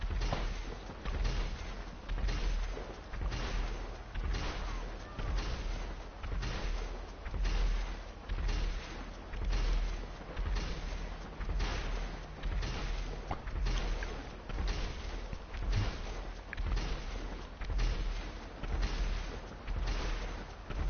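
A vehicle in GTA Online fires missiles in a long rapid series. Heavy booming launches and blasts repeat in a steady rhythm about every second, loud and dense throughout with no talking.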